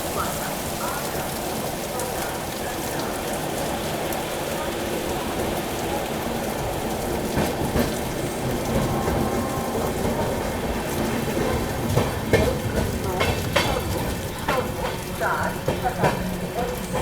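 Heavy rain beating on an Amrit Bharat Express train on the Kanpur–Delhi section, a loud continuous dense patter of drops over the moving carriage, with faint rumbling and scattered heavier splashes throughout.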